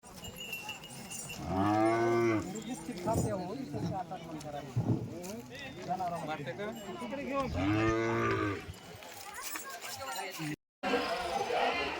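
Devni cattle at a livestock show in Latur give two long, loud, drawn-out moos amid a busy crowd, with people talking and chatter continuing between and after the calls.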